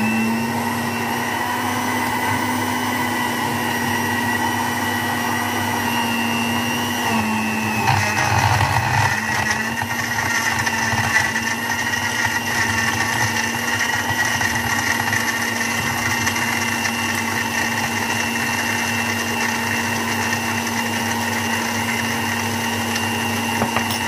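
An electric blender whirs steadily through red dragon fruit blended with no added water, a loud constant motor drone that shifts pitch briefly as the load changes and then holds even to the end, with no talking.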